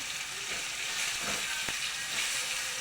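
Water hits a hot pan and sets off a loud, continuous sizzling hiss, with a few sharper crackling bursts as it spatters.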